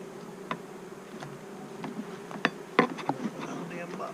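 Honeybees around an opened beehive during an inspection late in the year, with robbing starting: close, intermittent buzzing as individual insects pass the microphone, several sharp loud passes near the end.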